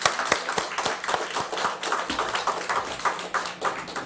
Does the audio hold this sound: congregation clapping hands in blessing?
yes